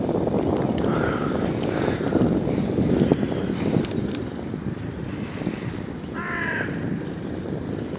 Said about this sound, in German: Man hört die Vögel zwitschern, den ein oder anderen Raben krächzen.